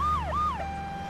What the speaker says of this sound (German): Boah, Krankenwagen.